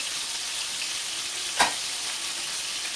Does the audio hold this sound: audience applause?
no